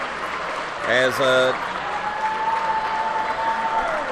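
Basketball fans applaud in a high school gym as a game winds down, steady clapping and crowd noise running under a play-by-play announcer's voice throughout.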